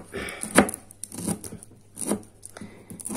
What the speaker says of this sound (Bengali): এভাবে কুচি কুচি করে কেটে নেবেন